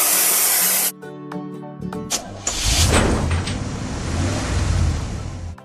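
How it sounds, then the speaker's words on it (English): A cartoon spray gun sprays paint onto a train: a burst of hiss, a short mechanical clatter, then a long steady loud rushing spray close up. "choose the spray gun cap of the same color"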